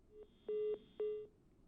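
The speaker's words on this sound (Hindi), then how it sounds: "फोन कट गया है" Three short electronic telephone tones beep evenly as a phone call drops, clean and alone against faint background hiss.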